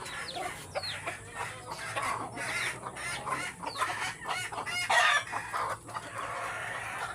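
Brooding hens clucking in a provincial yard, a steady run of close, repeated clucks and short squawks with a louder burst midway, with other fowl calling around them.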